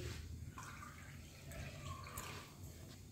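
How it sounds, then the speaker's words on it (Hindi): Water is poured into a pot on a gas stove to boil chana dal, making a faint, steady splashing hiss. "हम इसमें थोड़ा सा पानी और डालेंगे।"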